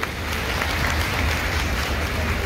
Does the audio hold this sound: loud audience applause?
yes